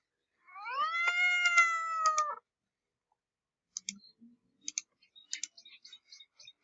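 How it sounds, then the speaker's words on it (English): House cat giving a single long, drawn-out meow, close and clear, followed after a pause by a few faint clicks and small scattered noises. "regular house cat."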